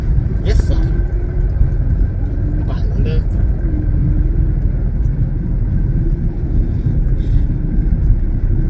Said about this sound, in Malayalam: ഞാൻ മുമ്പോട്ട് വണ്ടി ഓടിക്കുന്നു